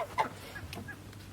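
A few short, soft clucking calls from chickens, fairly faint and spaced out over a low steady background hum.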